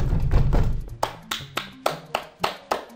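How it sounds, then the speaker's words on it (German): Hands banging on a table, a rumbling flurry of blows followed by six evenly spaced sharp claps or slaps, close and loud, with no voices. "Ich kann sonst was mit beiden Händen auf den Tisch rumkloppen."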